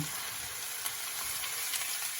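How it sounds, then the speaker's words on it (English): Steady, close sizzling of top sirloin frying in a hot pan, a broad hiss with occasional brief pops, no voices. "we're going to mix this around, get everything frying"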